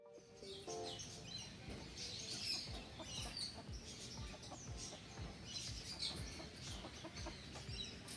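Polish Cap chickens, a crested exhibition breed, cluck and chirp steadily alongside other bird calls, a dense, continuous flock chatter with no voices over it.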